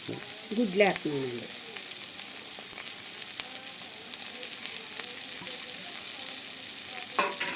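Eggs go into a frying village-style curry with drumsticks and prawn shells, setting off a steady bright sizzle under occasional spoon stirring and scraping in the pan; a short voice sounds near the start.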